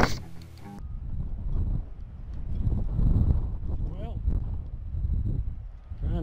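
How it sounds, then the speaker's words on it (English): Wind buffets the microphone in low, rumbling gusts at the Minidoka War Relocation Center site in Idaho, just under 4,000 feet elevation, while a person talks underneath it. "It is windy. Very windy."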